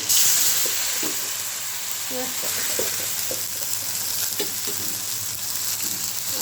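Turmeric, chili and cumin powder sizzle with a little water in a pan for a curry of taro and hilsa fish, a steady close hiss with faint stirring scrapes and light background voices.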